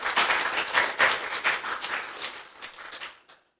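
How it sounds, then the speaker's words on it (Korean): Brief audience applause at a church-hosted national security lecture, a burst of clapping that tapers off and stops after about three seconds. "박수 한번 쳐주세요."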